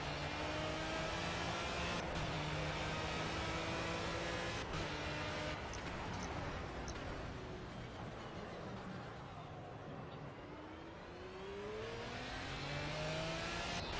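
Prototype racing car from the Racing Legends pack in Project Cars held at full throttle on a fast lap, a steady engine drone with rising and falling pitch across gear changes, loud and continuous throughout.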